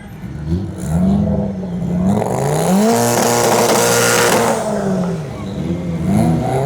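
A car with a Toyota 2JZ engine mated to a BMW ZF8 automatic gearbox revs hard at an outdoor car festival, its loud engine note climbing, holding high, then falling back, close and alone.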